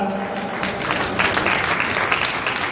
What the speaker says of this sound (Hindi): एक बार आपकी तालियां कमजोर है मित्रों